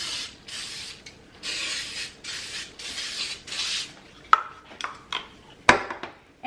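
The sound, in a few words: canola cooking spray sprayed into a springform pan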